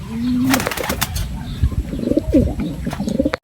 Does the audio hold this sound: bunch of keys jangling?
no